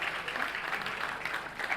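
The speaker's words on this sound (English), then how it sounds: "can we have a huge round of applause for all of them" Applause for a drama crew at a college law annual day, a short burst of dense clapping at moderate level, heard mid-stream without talk.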